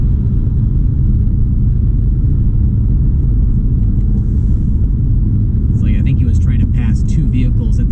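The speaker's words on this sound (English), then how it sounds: "there's a car approaching from the opposite side" Steady, loud road rumble of a car on a highway, with an oncoming vehicle approaching from the opposite direction; a brief higher whine rises near the end.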